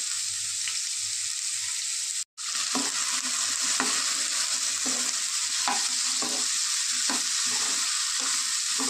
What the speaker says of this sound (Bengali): কালো জিরেটা একটু ভাজা হয়ে গেলে আলু আর কাঁচা লঙ্কা দিয়ে দেবো, দিয়ে অল্প নুন দিয়ে ভালো করে ভেজে নেব।